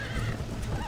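A horse in Red Dead Redemption whinnies loudly over a steady background of hoofbeats, all in under a second.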